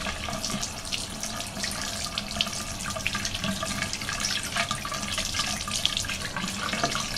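Running tap water splashes steadily as a makeup brush is rinsed under the stream, a continuous close hiss and spatter with no talking.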